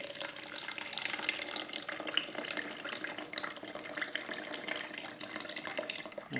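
Cold water trickles and splashes steadily into a container for a Mixue-style ice cream powder mix, fairly faint and continuous, with no voices.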